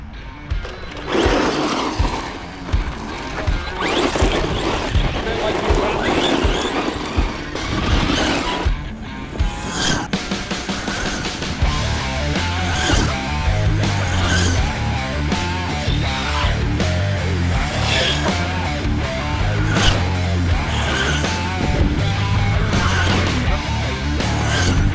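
An FTX Ramraider 4WD RC truck drives nearby, its electric motor whining and rising and falling in pitch over scrabbling tyres, with short gaps early on before a steadier, continuous run.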